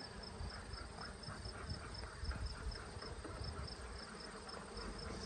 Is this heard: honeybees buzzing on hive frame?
yes